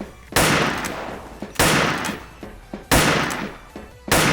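Repeated loud gunshots from the shooter video game Wolfteam, four sharp heavy blasts spaced roughly every 1.3 seconds, each trailing into a long noisy decay.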